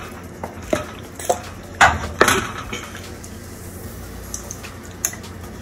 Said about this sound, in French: Pour que la sauce soit bien mélangée avec tous les morceaux de viande.